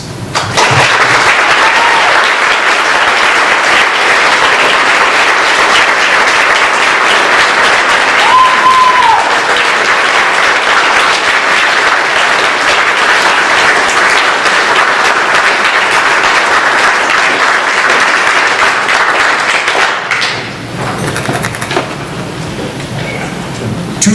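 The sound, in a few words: audience applause for invited guests and policemen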